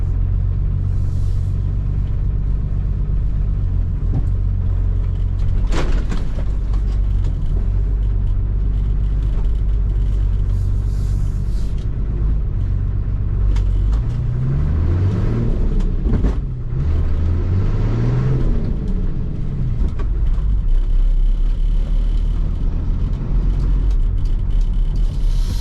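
A used auction truck's engine rumbles steadily up close, with revs rising and falling in the middle stretch as gears are changed, then settling back to a heavy idle.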